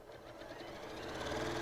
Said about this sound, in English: So I'm just gonna sew